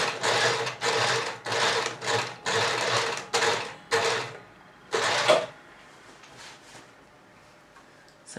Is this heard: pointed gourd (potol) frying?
no